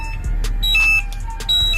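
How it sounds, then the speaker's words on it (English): A GX 2009 oxygen sensor alarm going off with repeated high electronic beeps in short bursts, loud and close over a steady low rumble. "You can hear the alarm going off."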